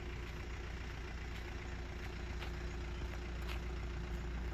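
A motorbike engine runs at a steady idle, its low throbbing rumble continuous and fairly close, with no voices over it.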